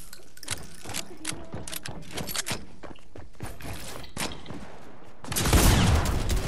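The Dragon's Breath shotgun firing in Fortnite, a string of crisp shots and clattering game effects with footstep-like taps, ending in a louder roaring burst near the close.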